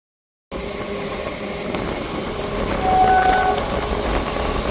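A Sealdah–Krishnanagar local train rumbles steadily along the track, its carriage noise filling the space throughout, with a short horn note sounding briefly in the middle.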